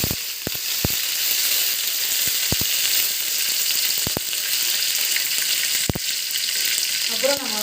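Curry leaves crackle in hot oil tempered with mustard seeds and urad dal, a constant close sizzle broken by sharp pops and clicks spaced unevenly across the stretch.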